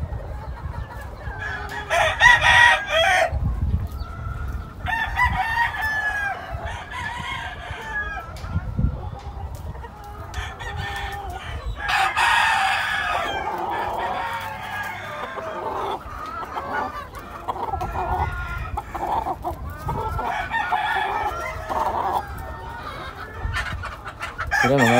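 Fighting gamecocks at a cockfighting yard, loud nearby crowing repeated several times with clucks and other fowl calling in between, over a busy outdoor background.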